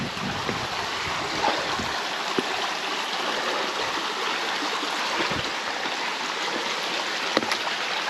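A small creek near Glen Falls flowing close by with a steady, full rush of water and occasional faint knocks, and no voices.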